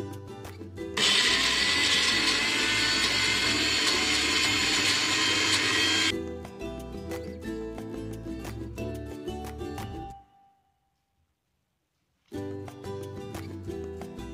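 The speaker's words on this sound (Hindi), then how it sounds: "अब इसे ब्लेंड कर लेंगे" An electric blender whirs loudly through coriander chutney ingredients with lemon juice, chaat masala, cumin powder, salt and green chillies, a steady high roar for several seconds, then a rougher grinding run that cuts off into silence before restarting.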